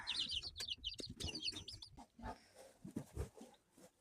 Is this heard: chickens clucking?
yes